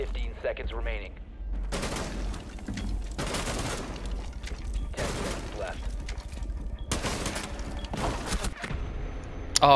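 Repeated bursts of automatic gunfire from a Rainbow Six Siege match, several loud volleys separated by short gaps, with a voice talking in between.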